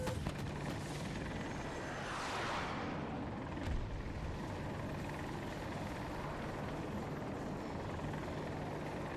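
An AH-64 Apache attack helicopter in a multiplayer war game drones continuously, its rotor and engine wash steady and fairly loud throughout with a passing whoosh early on.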